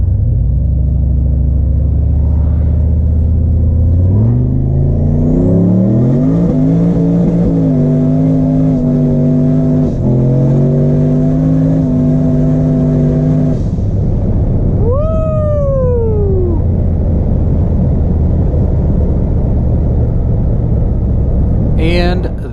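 A high-horsepower street car launches hard from a stop in first gear, its engine note climbing in loud stepped revs through the gears, then a brief whining pass and a fading rumble.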